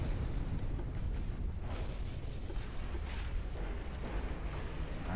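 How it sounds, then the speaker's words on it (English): Muffled, rumbling naval torpedo detonation in the warship game Ultimate Admiral Dreadnoughts, a dense low roar that fills the whole stretch at moderate level with no voices over it. "that torpedo detonated early"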